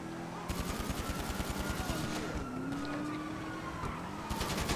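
Rapid automatic gunfire rattles in GTA Online during a police chase. The bursts are steady and fairly loud, with engine drone and a rising whine in the background.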